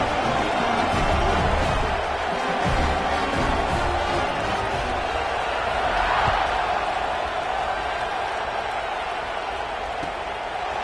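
Football stadium crowd at a Miami vs LSU game, a steady dense roar of cheering that holds loud and even across the whole stretch, with an announcer's voice woven faintly into the din.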